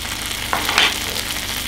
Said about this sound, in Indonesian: Kita tumis sebentar. Kita masukkan ikan pindang tunanya yang sudah kita suwir-suwir.